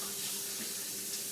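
Tap water runs steadily into a sink as something is rinsed under it, a close, continuous splashing rush for a moment.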